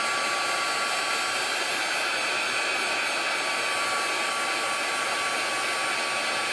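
A heat tool blows steadily and loudly, a constant whooshing hiss with no break, used to dry ink on the back of warped cardstock.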